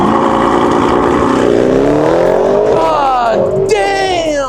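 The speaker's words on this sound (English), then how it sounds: "He's gonna do launch control." A car performs a launch control start at a street car meet, its engine note sweeping upward through rising revs, loud and close, with crowd talk and shouting running over it.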